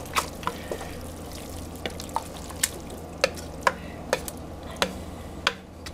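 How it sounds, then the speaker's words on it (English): Spaghetti being stirred in a pan of Chianti and tomato braised octopus sauce, with a series of soft wet clicks and squelches spaced irregularly over a low, steady simmer, close and fairly quiet. "We're going to give this a stir"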